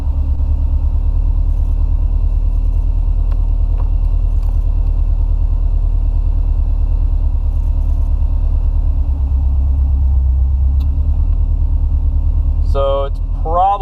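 A Subaru STI freshly reflashed with a Cobb Stage 2 tune idles with a steady, loud, low rumble close by, a few faint clicks and jingles near the end.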